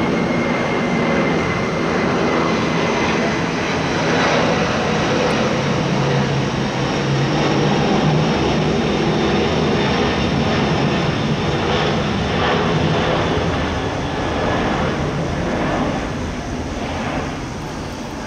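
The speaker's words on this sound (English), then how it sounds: "waiting until this airplane goes over." An airplane flies overhead in an open outdoor setting, giving a loud, steady broadband engine roar that holds for the full stretch and eases slightly near the end, with no talking over it.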